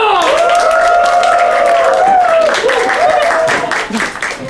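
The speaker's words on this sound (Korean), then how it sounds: "박수!" A classroom of students claps together after a vice-president volunteer is chosen, with voices calling out and cheering over steady clapping that tapers off toward the end.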